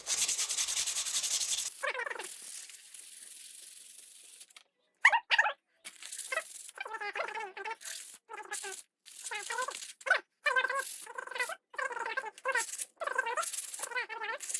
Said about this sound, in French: Le ponçage, c'est toujours plus ou moins la même chose.